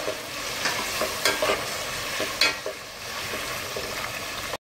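Chopped tomatoes being stirred and fried in a pan for chicken biryani, a steady close sizzle broken by several scraping stirs of the spoon, with no voices.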